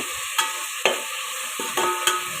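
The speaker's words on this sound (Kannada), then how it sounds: "ಟೊಮೊಟೊ ಚೆನ್ನಾಗಿ ಎಣ್ಣೆಯಲ್ಲಿ ರೋಸ್ಟ್ ಮಾಡ್ಕೋಬೇಕು" Tomatoes roast in hot oil for a vegetable pulao while a spoon stirs them, making four or five distinct scraping strokes over a soft, continuous sizzle.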